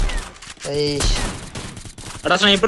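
Bursts of gunfire and sniper shots in a Free Fire tournament match, loud and repeated, mixed with excited voices talking over the action.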